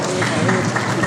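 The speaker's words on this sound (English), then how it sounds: "Nice strong round of applause for a beautiful actor." Audience applause at a film trailer launch, a brief dense burst of clapping from a crowd, steady and fairly loud throughout.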